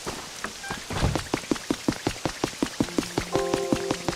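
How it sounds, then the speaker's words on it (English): Rain falls in the video game Pokémon Pokopia, heard as a regular patter of distinct drops with a soft wash beneath, joined near the end by sustained game tones. "Glad to see it's raining."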